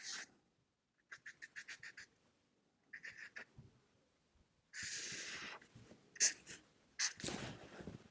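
Marker drawing on a board, a series of short squeaky strokes in bursts separated by pauses, some longer sweeping lines near the end, close and fairly faint, no speech.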